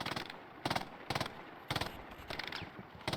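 A braced machine gun firing in the video game Hell Let Loose, heard as repeated short bursts of rapid rounds in a steady stuttering rhythm, fairly faint and distant-sounding, with no talk over it.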